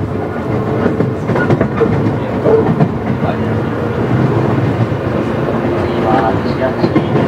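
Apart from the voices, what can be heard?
electric train departing and running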